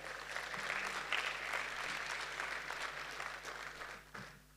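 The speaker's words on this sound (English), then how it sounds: "I would like to request another big round of applause to CEO" An audience claps for the CEO at a corporate success week event, a sustained round of applause that swells and then tapers off toward the end.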